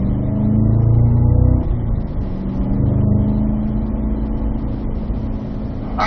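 A race car pulls hard in fourth gear down a straightaway during a track session, its loud engine droning steadily close by with a slight dip and recovery in pitch as it accelerates.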